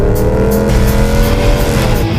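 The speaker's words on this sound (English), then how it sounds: "You hear that? That's our Hemi, and it's saying, I'm back." Ram Hemi V8 engine revving loudly and steadily up close, a deep continuous roar with rising and falling pitch sustained throughout.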